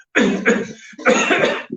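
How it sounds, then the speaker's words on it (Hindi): Two forced coughs in quick succession, close and loud, followed by a short softer huff at the end. "नकली खांसी"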